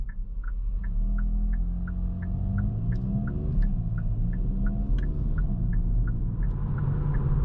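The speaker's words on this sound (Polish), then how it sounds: "Jedyną różnicą jest to, że słyszymy wyraźnie pracujący wydech." A 2023 facelift Kia ProCeed GT with a 1.6 turbo making 204 hp drives along, its exhaust giving a steady, close, low droning rumble. A regular light ticking repeats on top of it.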